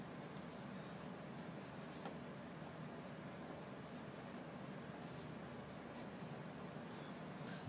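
A pen sketching the lines of a lamp base on paper, a steady soft scratching that runs on continuously and close.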